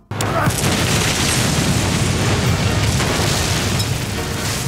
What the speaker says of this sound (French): Et là, on a le droit à une gigantesque explosion.